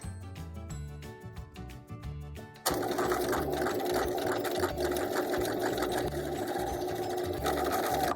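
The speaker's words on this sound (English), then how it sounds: "You can sew right off the sides if you want, or you can make neat corners." A sewing machine stitching a fabric book wallet, starting slow with distinct needle strokes, then running fast in a close, continuous mechanical whir.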